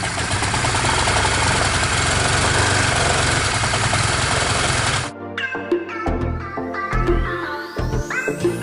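A 2008 Honda Vario scooter engine idles loud and close for about five seconds with a steady dense rumble that will not settle, then cuts off, leaving scattered clatter and background noise.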